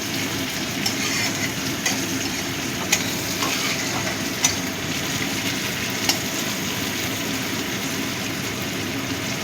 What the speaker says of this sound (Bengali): এই তেলের মধ্যে গরম মশলাটা ফোড়ন দিলে না খুব সুন্দর স্বাদ হয়।